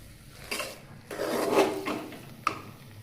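Jaggery lapsi mixed in a pot with a spoon, a few soft scraping and knocking strokes against the metal, fairly quiet and close, with no talk.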